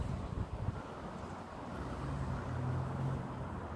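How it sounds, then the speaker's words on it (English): Wind gusts past a small backyard wind turbine among vines, a steady rushing buffet of air against the microphone that swells louder toward the end, with a low droning hum underneath. "Here comes a good gust of wind."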